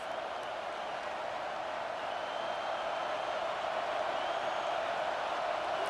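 Stadium crowd noise in the EA Sports College Football 25 video game, a continuous broad roar of many voices that holds steady and fairly loud for several seconds, with no commentary over it.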